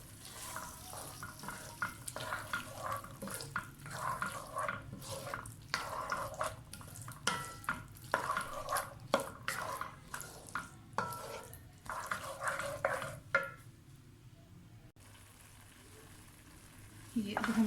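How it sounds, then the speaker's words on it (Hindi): Chickpeas are stirred and fried with masala in a pan for Lahori channay, a close, steady sizzle broken by repeated scraping strokes of the spoon before the frying quiets near the end. "ये अब हमारे चने मसाले के साथ अच्छी तरह से भून चुके हैं।"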